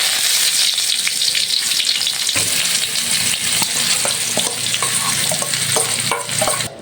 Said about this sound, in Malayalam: കടുകിട്ട് കൊടുക്കുക